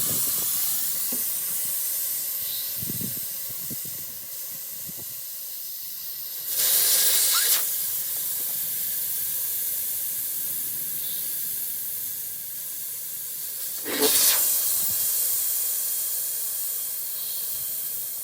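Air hissing out of mounted car tires being deflated, two distinct loud bursts of rushing air over a quieter steady hiss, with no talk.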